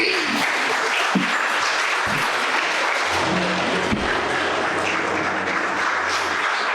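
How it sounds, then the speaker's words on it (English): Sustained applause from an audience at a Bible quiz competition, marking the end of a round and the announcement of the winning team; steady dense clapping fills the hall throughout, with a low hum entering partway. "And a round of applause to Riverside as well."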